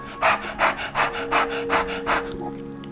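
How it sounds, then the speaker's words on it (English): Rapid nasal panting breaths in a breathing exercise, about six quick rhythmic bursts close to the mic, evenly spaced and loud, with no talking. "breathing in and out through your nose, quick bursts like a puppy dog"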